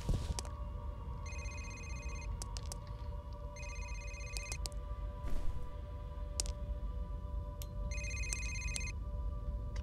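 A telephone rings in the video game F.E.A.R., three evenly spaced bursts of electronic trilling over a steady humming background, fairly faint with a few clicks between rings.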